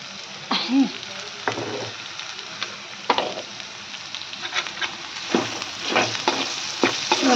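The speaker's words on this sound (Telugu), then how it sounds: "మొత్తానికైతే ఇలా కలుపుకోవాలి కొంచెం మీడియం ఫ్లేమ్లో" Food coated with ginger paste is stirred in a pan over a medium flame. Close, steady frying sizzle runs throughout, with repeated scraping strokes of the spatula at irregular intervals and no voices.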